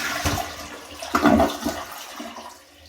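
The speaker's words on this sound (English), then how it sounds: "That is a half flush." An early-2010s Aquasource dual-flush toilet gives a weak half flush, a short close rush of water that swells and then drains away to quiet.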